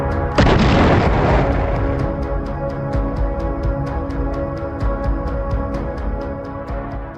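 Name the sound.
secondary explosions of cooking munitions on battlefield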